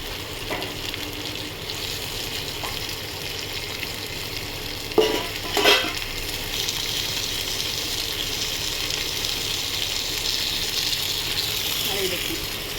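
Fish sizzling in mustard masala in a pan, a continuous frying hiss with a couple of sharp stirring clatters midway, and a voice talking faintly under it.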